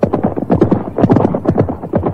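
Horse hooves gallop in an audio drama sound effect, a loud, close, rapid clip-clop beat rolling on steadily without voices.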